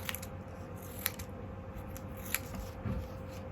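Scissors snip colored paper into small pieces for a donut craft, giving a few sharp, close cuts spaced irregularly over a quiet room, with no speech.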